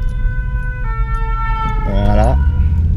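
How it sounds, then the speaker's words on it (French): A fire engine's siren passes on the road beside a car, loud and steady, its wail rising and falling in a sweeping warble over the engine rumble and road noise. "Alors laissons passer les pompiers."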